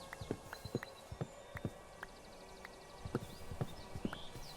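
Horse hooves in Minecraft clip-clop in a steady walking rhythm, a string of sharp, close knocks that thin out and then pick up again toward the end, with no talk.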